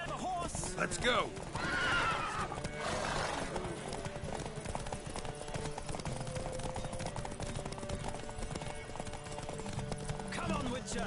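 Horses gallop in a race in The Witcher 3, with rapid hoofbeats drumming throughout and a horse neighing loudly near the start, while voices shout over the racing.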